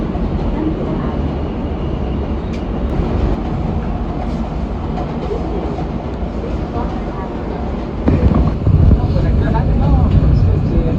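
A New York City subway M local train made up of four R160 cars, running with a loud continuous rumble and rattle from inside the car that swells louder near the end.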